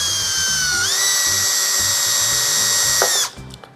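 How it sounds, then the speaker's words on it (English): A power drill spins a 5/64 drill bit through a small hole in a Hangar 9 Ultra Stick RC model airplane part, a loud steady whine that shifts pitch briefly, then stops abruptly with a clunk. "we're gonna take that 5/64 drill bit and just clean that hole out a little bit."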